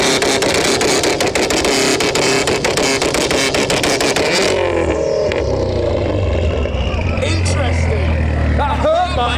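A tuned Volkswagen Golf R making around 800 brake horsepower revs hard against launch control, a loud dense roar with rapid crackles that drops into a lower, steadier rumble as other engines and voices carry on around it.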